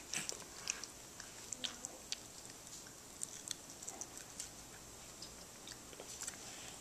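A baby with only four teeth crunches on homemade potato latkes, close-up with a rapid irregular patter of crisp bites and chewing, fairly faint and steady throughout.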